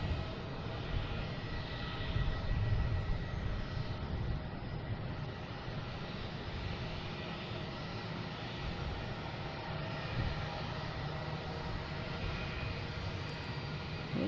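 Just landed at Boston Logan from Chicago Midway, a jet airliner rumbles faintly and at a distance, its engine noise low and steady with slight swells.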